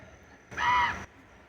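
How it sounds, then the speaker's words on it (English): A single hoarse, bleating caw lasting about half a second from a crow with a deformed voice, goat-like and fairly close, standing alone against quiet outdoor background. "There's a crow that's got a deformed vocal cord or something."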